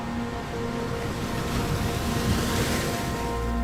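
Ocean waves wash in a continuous broadband rush with a slow swell, fairly loud and close, mixed with some wind, and nobody speaking.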